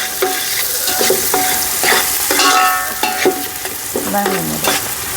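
Chopped onions and green chillies, with cloves, frying in a pan for a home-cooked chicken curry, stirred with a spoon that scrapes and clinks rhythmically over a constant loud sizzle, no talk.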